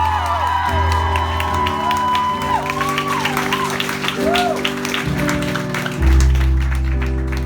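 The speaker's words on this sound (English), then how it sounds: "So truly, give one last round of applause, all right?" Concert crowd at a Vancouver pop show clapping, cheering and whooping over sustained band chords, loud and continuous with shouts rising above the clapping.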